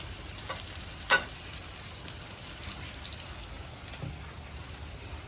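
Fresh ground coconut paste frying with a little spice in a pan, a soft steady sizzle with a few faint clinks and scrapes, quiet and even throughout.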